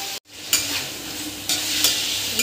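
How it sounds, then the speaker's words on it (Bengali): Long strips of ridge gourd fry in a pan without salt yet, giving a steady hissing sizzle broken by a few stirring scrapes. "প্রথমে এমনি ভাজা করছি, তারপর একটু নুন হলুদ দেবো"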